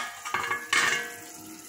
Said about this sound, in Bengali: ঢাকনাটা এবার খুলে দিচ্ছি।